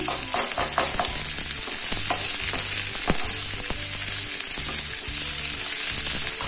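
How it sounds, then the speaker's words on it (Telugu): Chopped onion and green chili fry in a pan with a loud, steady sizzle and crackle, broken by repeated scraping clicks as the mix is stirred. "ఉల్లిపాయ పచ్చిమిర్చి పెద్ద ఎక్కువగా ఫ్రై అవ్వనవసరం లేదండి"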